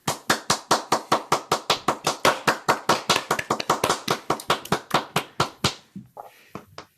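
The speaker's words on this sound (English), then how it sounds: "we can unmute for some applause for AJ and Lynz" A few people clap for folk performers at a maritime folk festival, giving a sparse, rhythmic patter of close hand claps that runs for several seconds and then thins out into scattered faint claps.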